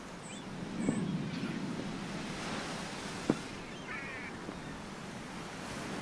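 Gentle sea waves washing onto the shore, a soft continuous surf hiss with a few faint distant bird calls and a brief knock partway through, no speech.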